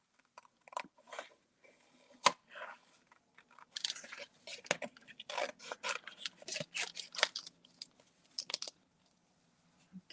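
Close snips of scissors cutting out a stamped paper image for a card, scattered cuts at first, then a quick, steady run of crisp snips and paper rasps, then a few last cuts.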